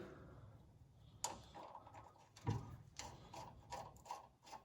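A ratchet clicks in short bursts while castle nuts are threaded onto the drag link of an Isuzu NPR truck, close and fairly quiet, with a sharper knock of metal partway through and no talking.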